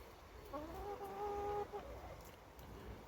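Backyard chickens giving a short, drawn-out cluck or trilling call, faint and somewhat distant, with low ambient noise around it.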